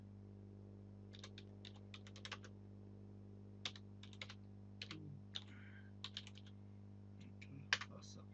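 Someone types a code comment on a computer keyboard: quiet bursts of irregular key clicks, close but faint, over a steady low electrical hum, with a couple of soft sharper taps.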